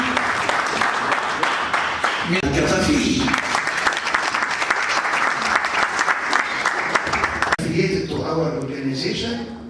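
An audience at an international professional graduation ceremony in Togo applauds with loud, sustained clapping that fills the whole stretch, briefly dipping and then resuming, while a voice speaks over it.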